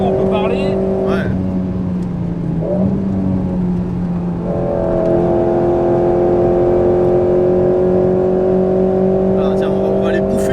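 An Alpine A110 GT4-spec road car drives hard on a race track, its engine note holding a loud steady drone that dips and climbs again with a gear change, while people talk over it inside the cabin.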